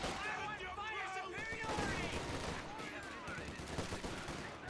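MG42 machine gun firing in Company of Heroes 2 multiplayer, sustained dense bursts under continuous battle noise and a talking voice.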